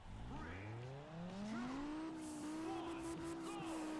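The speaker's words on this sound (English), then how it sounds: "This sounds more like a V10 than the V10s do." Race car with a V10-like engine in the video game Juiced 2, its high-pitched wail climbing steadily through the revs, loud and continuous with some tire noise near the end.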